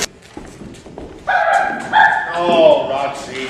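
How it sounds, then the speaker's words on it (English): A dog barks and yelps close by in a few loud, stretched bursts after a quieter stretch with faint background sounds. "Don't you worry about her, she just barks."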